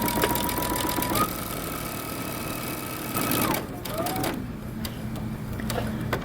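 Sewing machine back stitching a seam runs in a steady mechanical hum, stops partway, then briefly starts again, close and moderately quiet.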